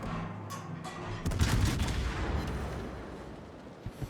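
Naval gunfire from an American cruiser in the warship battle game World of Warships. A single heavy boom lands mid-clip and rumbles away over low background noise.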